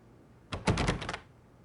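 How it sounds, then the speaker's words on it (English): A door handle on a locked door is rattled in an Agatha Christie adventure game, giving a short burst of several quick clunks and jiggles lasting about half a second, close and fairly loud against a quiet background. "Door must be locked."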